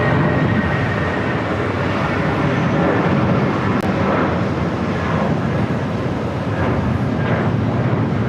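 A heavy jet airliner at JFK airport roars steadily throughout, a loud broadband engine rumble with no clear breaks, heard close from a spotting position.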